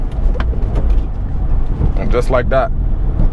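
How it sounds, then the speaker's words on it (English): A manual-transmission car engine drones steadily while the driver downshifts, a continuous low rumble heard from inside the car with someone talking over it. "So maybe run that back a few times if you want to see how I downshift"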